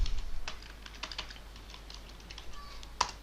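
Keys clatter in light, irregular taps on a computer keyboard while a router icon name is entered in PNETLab topology software, faint and close, with one sharper click near the end.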